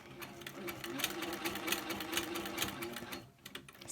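A sewing machine stitching down gently tensioned fabric for a basket weave background filler, running continuously with a rapid, even mechanical rattle that stops briefly near the end.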